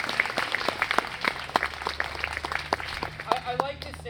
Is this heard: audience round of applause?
yes